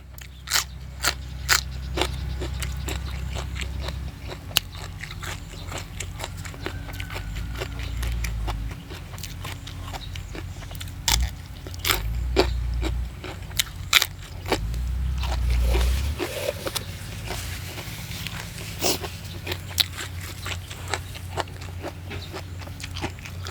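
Crisp, crunchy chewing of fresh bitter gourd eaten alongside spicy blue crab and raw shrimp papaya salad outdoors at midday, with repeated sharp bites and crunches over a low steady background rumble.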